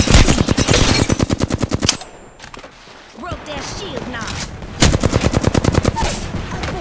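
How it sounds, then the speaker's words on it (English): Bursts of rapid automatic gunfire in the shooter game Apex Legends, loud and close, with two long volleys separated by a quieter stretch of game sounds and chatter under the shooting. "I'm getting shot at."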